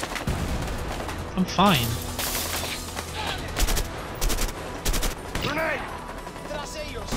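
Grenade launcher fire in A Way Out, a run of heavy thumping blasts and bursts of shooting over several seconds, loud and close, with brief shouted voices between the booms.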